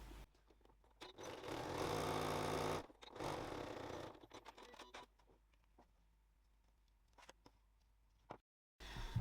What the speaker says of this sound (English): The only thing to do is to stitch that extra line of stitching along the bottom